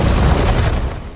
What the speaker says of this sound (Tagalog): Sa mismong sandaling iyon, bumagsak din ang sasakyan ni Tila.